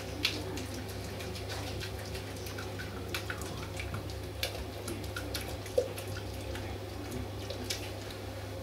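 Hot water swirls inside a tin of beer extract during home brewing, a faint, steady liquid wash with occasional small sloshes and drips over a low background hum.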